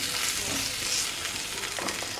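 Oil sizzles and crackles steadily in a cooking pot, a close, continuous frying hiss with no voices over it.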